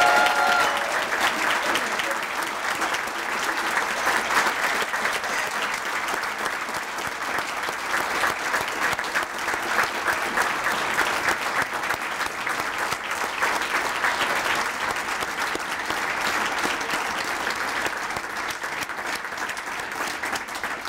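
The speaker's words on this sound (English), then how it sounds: "that long of an applause means you really have done a good job" An audience at an Acts4Youth event claps for a long stretch without pause, a thick, steady wash of applause from many hands.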